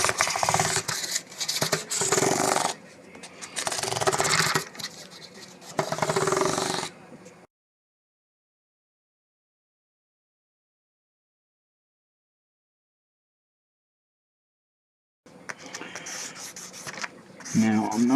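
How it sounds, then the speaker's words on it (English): Fine 2000-grit sandpaper and an eraser rubbing the frets of a maple-board Strat guitar, with close, steady back-and-forth scratchy strokes in two bursts separated by a long silence. "We're going to use some 2000 grit and an eraser just to do this."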